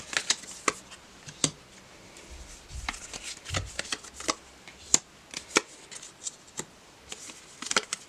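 Tarot cards are shuffled and drawn on a tabletop, giving a run of crisp riffling flicks and soft slaps that come in irregular bursts, close and fairly quiet, with no voices.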